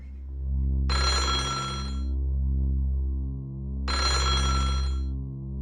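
An old-style telephone bell rings in two long bursts with a pause between them, loud and alone over a low steady hum in the Otogirisu video game.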